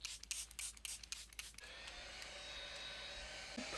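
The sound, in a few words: setting spray being sprayed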